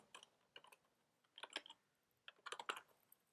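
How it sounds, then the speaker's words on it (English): Typing on a computer keyboard: quiet, close clusters of key clicks in short irregular bursts separated by brief pauses, with no talking. "I'll just type it by hand"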